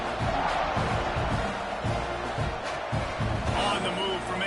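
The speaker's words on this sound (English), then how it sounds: "this crowd is buzzing after that last score" College football video game stadium crowd buzzing after a score, a constant broad murmur of fans with a commentator talking over it throughout.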